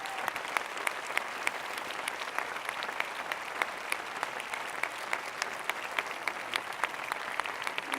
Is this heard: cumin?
no